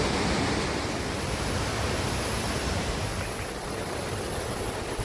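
Chilanthiyar waterfall near Vattavada roars as a continuous, dense, even wash of rushing water, loud and unbroken throughout, with no voices.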